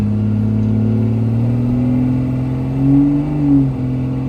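A Dodge truck with an automatic transmission accelerates nearby, its engine drone steady and loud, then rising in pitch with a brief surge and drop that suggests a gear shift near the end; no voices.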